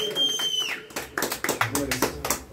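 Audience applause at a mariachi birthday performance, a short burst of scattered clapping that follows a held musical note, with a voice speaking at the start.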